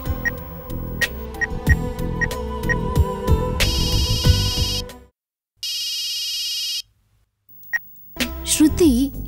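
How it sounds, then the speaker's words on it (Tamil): Electronic ringing tones sound in bursts after some clicks and beeps, with silent gaps between rings, then a voice answers near the end. "கவிதாக்கு ஃபோன் பண்ணி பாப்போம்."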